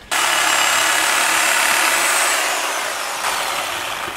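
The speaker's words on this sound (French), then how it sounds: "Forcément une scie c'est pas fait pour couper dans la terre." A power saw cuts through a large bonsai root in soil, giving a loud, continuous, close grinding roar that starts abruptly and holds steady, easing slightly toward the end.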